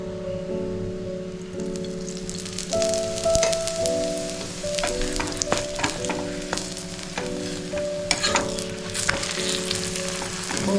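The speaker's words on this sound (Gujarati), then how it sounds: "ઘી ઉમેરીને શેકી લઈએ આપણે એને." A cabbage, cheese and paneer paratha roasting in ghee on a pan, giving a steady crackling sizzle with occasional spatula scrapes and taps, loud and close, with no talking.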